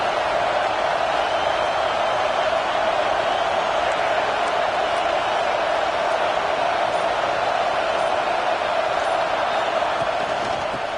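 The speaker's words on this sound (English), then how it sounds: "This crowd bringing the energy and noise early" A stadium crowd at a football game roars in a constant, dense wall of noise for the whole stretch, loud and unbroken with no distinct voices standing out.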